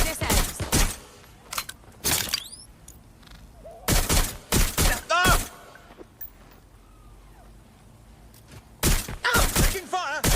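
Bursts of automatic gunfire in the video game Watch Dogs Legion, loud close volleys in several clusters separated by quieter gaps, with shouted voices in between.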